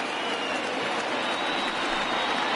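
A baseball video game crowd of more than 36,000 cheers and rises to its feet, a broad, steady roar of applause and noise that holds evenly throughout.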